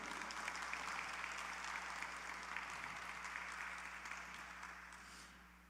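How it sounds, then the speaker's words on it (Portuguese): A church congregation applauds, steady massed clapping with a low hum beneath, holding for several seconds before fading out near the end, with no voices over it. "Você pode aplaudir a Deus por isso."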